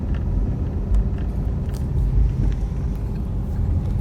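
A car engine drones steadily at low pitch with a constant rumble as the driver eases off the throttle heading into curves, carrying through without talk.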